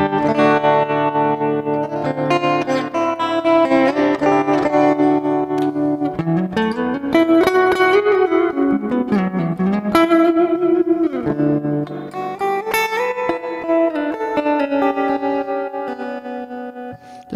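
An electric guitar played through a Fender Tre-Verb pedal rings out in sustained chords and sliding melodic lines, washed in lush reverb and trailing echoes, loud and continuous with no talking.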